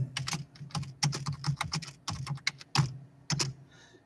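Rapid clicking on a computer keyboard as a comment is typed, close and distinct, with irregular bursts of keystrokes separated by brief pauses.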